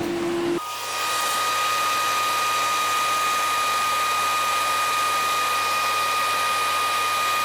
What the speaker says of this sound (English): Also notice the cooling fan just turned on as well.